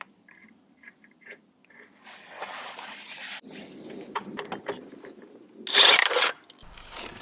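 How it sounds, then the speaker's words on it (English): A torque wrench tightens a nut over a washer on a Yamaha Grizzly 450 ATV during a drive belt replacement, giving close, irregular ratcheting clicks and metallic handling noises, with a louder burst of clicking near the end. "let me take my torque wrench"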